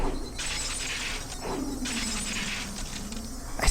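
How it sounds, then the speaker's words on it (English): Glass windows smash in the Higurashi When They Cry video game, a continuous run of loud, bright shattering and scattering shards with several overlapping crashes across the few seconds, with no voices. "I smashed all the glass windows"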